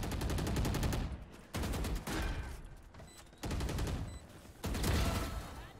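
Video game gunfire in Neon play, repeated bursts of rapid shots in loud clusters separated by brief pauses, close and sharp with constant background game noise.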